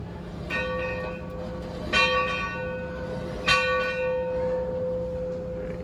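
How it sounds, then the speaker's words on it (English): A bell on Southern Pacific locomotive number 314 rings three times at slow, even intervals, each clang ringing out with a long sustained hum over a low background rumble. "And then the bell actually starts to ring."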